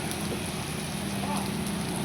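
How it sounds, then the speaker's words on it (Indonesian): Heavy drizzle falling outdoors beside a muddy river, a dense steady hiss of rain patter close by, with no talking. "Cuaca tidak mendukung ya teman-teman, gerimis dan lumayan deras."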